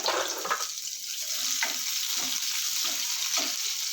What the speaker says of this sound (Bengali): এখানে তেল গরম হয়ে গিয়েছে, বেশি করে পেঁয়াজ দিয়ে দেবো।